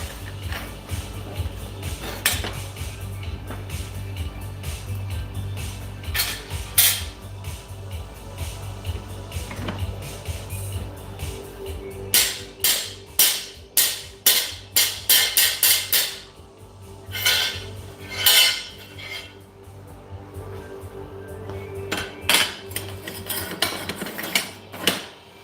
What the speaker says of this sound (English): I'm going to take this and hammer this on the floor because this is sitting a little high